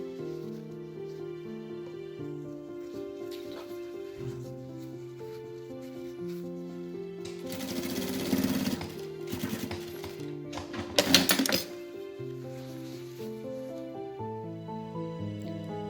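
An industrial sewing machine stitches the side seams of a jumpsuit in two short, rapid bursts of whirring and clattering, heard over steady background music.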